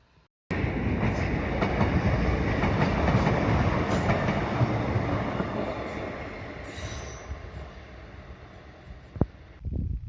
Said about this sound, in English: I think that might have been the last train